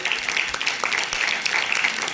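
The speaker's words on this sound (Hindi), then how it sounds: "जोरदार तालियों से इनका अभिनंदन करें।" An audience at a women's college event claps loudly and continuously, a dense close burst of applause with no talk over it.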